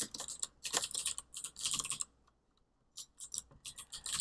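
Fast typing on a computer keyboard while entering information into a WordPress install form. Close, crisp key clicks come in quick bursts, broken by a short pause before another flurry of keystrokes, with no talking.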